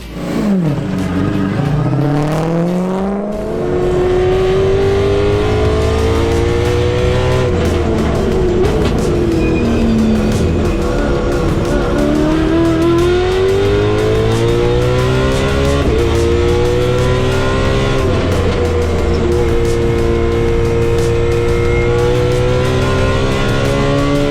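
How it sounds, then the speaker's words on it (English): A race car engine roars continuously up close during practice at Highlands Motorsport Park, its pitch climbing and dropping through gear changes as it accelerates and brakes around the track. "as I'm going around in practice"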